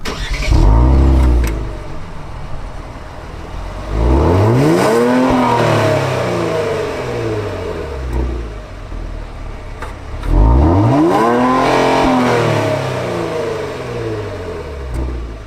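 A 2022 Kia Stinger's 3.3-litre V6 twin-turbo engine revs up sharply three times, each rise climbing in pitch then settling back to a steady idle between bursts, loud and close.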